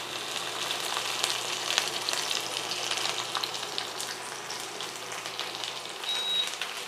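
Zucchini pancakes pan-frying over high heat in plenty of oil make a loud, continuous sizzle with dense crackling and spitting, close up and steady, with no voices.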